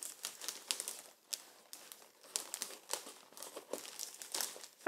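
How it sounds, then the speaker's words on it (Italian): Satin ribbon is wound a couple of times around a folded gift bag, giving close, soft crinkling and rustling with irregular bursts of movement. "lo inseriamo nella busta, pieghiamo il lembo e facciamo un paio di giri con il nastro di raso"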